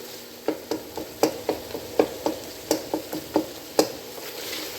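Chicken pota salan is stirred and fried in a pan: a steady run of a dozen or so close, crisp scraping knocks in an uneven rhythm over a continuous soft sizzle.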